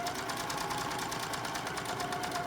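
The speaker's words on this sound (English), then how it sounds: "The machine should be able to sew over that seam and not skip stitches." A Singer 66 sewing machine stitching over a thick multi-layered seam, running steadily with a fast, even mechanical whir and rapid clicking stitches, close and uninterrupted throughout.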